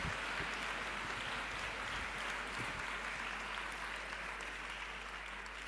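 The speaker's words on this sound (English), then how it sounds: "applaud them" At a model UN conference closing ceremony, an audience applauds in a steady, even wash of clapping from a large hall.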